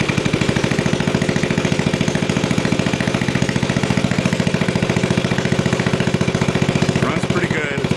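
A restored Snapper riding mower engine runs without an exhaust, loud and close, with a steady rapid chugging pulse that holds even throughout.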